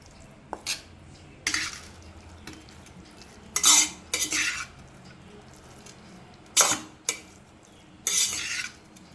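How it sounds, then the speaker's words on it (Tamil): Tomato rice being stirred with sesame oil, a metal spoon scraping and clinking against the pot in several separate bursts, close and fairly loud, with quiet pauses between strokes. "நல்லெண்ணெய் ஊற்றி நம்ம கிளறி வைக்கிறோம்"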